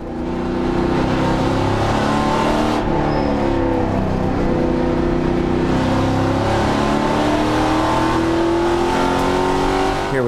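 A race car at Canadian Tire Motorsport Park (CTMP) accelerates hard around the track, its engine note climbing through the gears with a brief shift dip, loud and close from onboard throughout.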